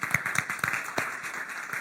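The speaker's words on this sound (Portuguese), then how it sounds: "Vamos aplaudir o Senhor." A church congregation applauds with a loose, scattered clapping of many hands at moderate distance, fairly steady over the short stretch with no voices standing out.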